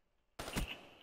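A single loud, close gunshot from Black Ops 3 hardcore team deathmatch cracks after brief quiet and rings out with a short decaying tail.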